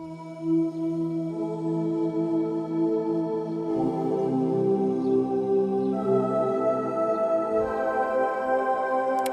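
A soft, sustained synthesizer pad from the free Warped Elements patch, with a breathy, choir-like vocal tone, shifts slowly between chords, with no talking.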